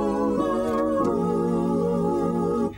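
A Roland XP-80 synthesizer sounds user patch 015, a layered four-tone preset, as sustained harmonic chords with a couple of soft shifts in pitch, playing steadily and clearly throughout before cutting off near the end.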